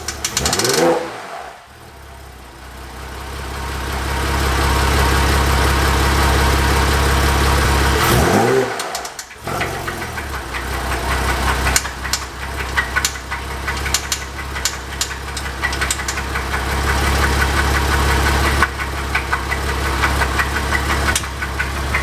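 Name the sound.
Porsche Cayman S engine running with knocking noise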